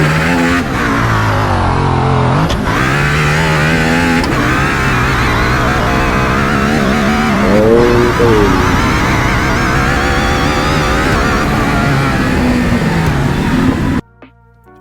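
A 2019 sports car in the Roblox video game revs and accelerates loudly and steadily, its engine pitch rising and falling through gear-like sweeps for about fourteen seconds before cutting off abruptly.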